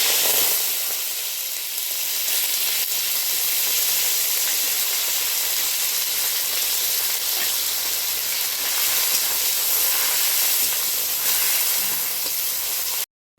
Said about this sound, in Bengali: পেঁয়াজটা কুচি করে রেখেছিলাম পেঁয়াজটা দিয়ে দেবো